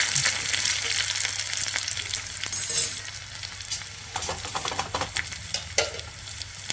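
Cut dried red chilies frying in hot oil, a steady crackling sizzle with brief louder bursts as they hit the oil and occasional stirring clicks, no voices.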